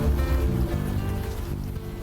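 Steady rain falls in Unavowed, a dense continuous hiss of drops close by with a low rumbling undertone, unbroken throughout.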